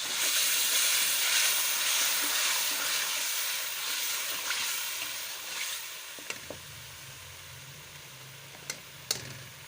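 Onion paste sizzling loudly in a pan where green chilies and tomatoes are already frying, a steady broadband hiss with a few clinks of a spoon near the end.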